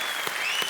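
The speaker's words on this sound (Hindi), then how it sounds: "ठोको ताली।" Brief burst of studio audience applause on a Hindi comedy talk show, The Kapil Sharma Show, a dense steady clatter of many hands with no voices.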